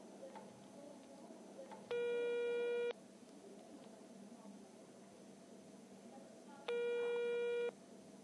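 Telephone busy signal heard while calling a rural village council office, two steady one-second tones several seconds apart over faint room hiss, quiet and close.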